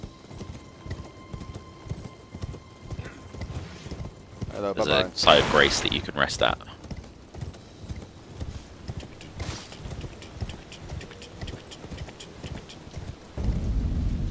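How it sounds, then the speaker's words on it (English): Rapid rhythmic hoofbeats of a horse galloping in the Elden Ring video game, steady and close throughout, with a loud burst of game combat noise midway and people talking over the top. "How do I get off my horse?"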